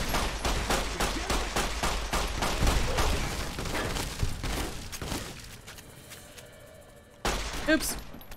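NCR troopers firing on the player in the Fallout: New Vegas video game, a rapid barrage of close, loud gunshots that thins out and then flares up again with a sharp burst near the end.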